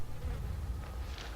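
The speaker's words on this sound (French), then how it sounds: "Ah, il y a des mouches." Flies buzz in a steady, low drone inside the horror video game Outlast II, quiet and continuous with no voices over it.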